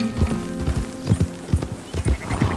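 Galloping horse hooves in Red Dead Redemption 2, a loud close run of rhythmic clip-clop beats with a whinny mixed in.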